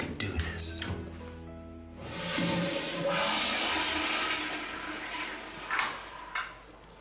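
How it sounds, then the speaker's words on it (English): A toilet flushes in a film scene: a loud, steady watery rush begins partway through and swirls on for several seconds, following a few quieter knocks and movements near the start. "You ever heard of courtesy flush?"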